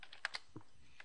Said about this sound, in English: Let's type in something